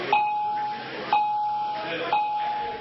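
An electronic school bell chimes three times at even intervals, each a bright ding with a sustained tone, fairly loud and unaccompanied by talk.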